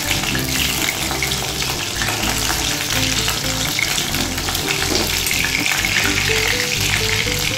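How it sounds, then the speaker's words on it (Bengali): Fish pieces fry in hot oil for a spicy winter jhal, a loud, steady, dense sizzle with bubbling and crackle running unbroken from start to finish, with no voices. "এই মাছগুলো আমার ভাজা হয়ে গেছে"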